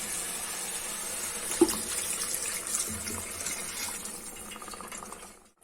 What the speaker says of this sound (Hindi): अब इसमें हम थोड़ा सा पानी डाल देंगे।